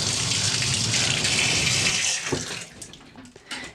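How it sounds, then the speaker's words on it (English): Water gushes from a tap into a bathtub being cleaned with a rag, a loud steady splashing stream for about two seconds before it cuts off and leaves a few drips and small handling sounds close by. "and then you add some water"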